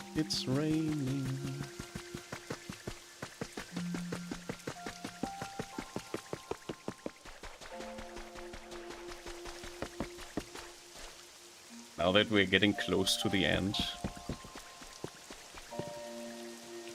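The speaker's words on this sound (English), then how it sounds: "It's raining." Steady rain patters throughout under tonal game music and a voice talking, with a louder burst of sound partway through, in the game Pokopia.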